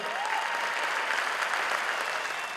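Audience at a live stage show applauds a singer, a steady, dense wash of clapping that holds evenly loud throughout the short stretch, with no voices over it.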